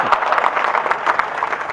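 A crowd at a live Hindi comedy show breaks into brief, lively applause, a dense patter of many hands clapping at once, fairly loud and close.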